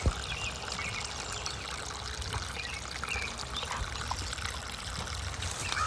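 Water pours and trickles along a freshly dug ditch in a field, a continuous close bubbling flow with splashy detail, no talking.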